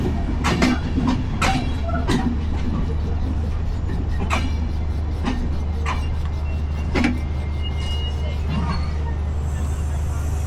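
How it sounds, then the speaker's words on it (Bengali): The Ekota Express crosses the Drutojan Express at a station in Bangladesh, giving a steady low rail hum punctuated by sharp, irregular clacks and knocks as the trains pass close by. "দ্রুতযান এক্সপ্রেসের সাথে আমাদের ক্রসিং হলো"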